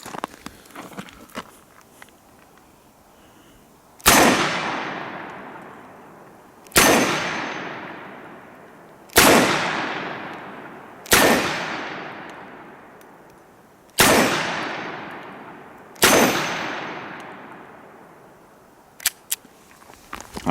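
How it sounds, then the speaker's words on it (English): Six loud revolver shots from a Dan Wesson 715, each a sharp crack with a long ringing decay, spaced about two to three seconds apart outdoors, with faint handling noise between them. "Wait till you shoot it, young Beretta."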